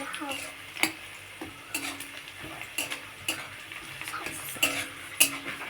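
Onions and black cumin seeds frying in hot, splattering oil for a drumstick chorchori, a steady sizzle broken by repeated clinks of a spatula stirring against the pan, close up.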